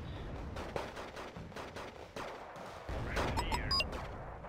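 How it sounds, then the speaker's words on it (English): Bombs and gunfire hit a town in the wartime strategy game Wargame: Red Dragon, a dense, rumbling barrage of overlapping blasts and rattling fire that swells louder near the end, with a few thin electronic beeps. "Let's bomb this town first"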